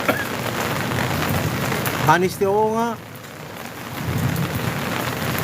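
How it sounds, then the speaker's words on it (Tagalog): Heavy rain pours down steadily on a road during flooding, a loud continuous hiss under brief talking partway through. "Lakas din ng ulan, malakas din."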